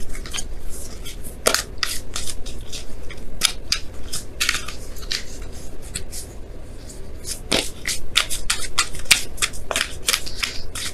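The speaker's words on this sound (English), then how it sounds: "I'm going to pull you guys your Romance Angels card here" A deck of Romance Angels oracle cards is shuffled and cards are pulled, giving a fast run of crisp, close riffling snaps and flicks that continue throughout without any talking.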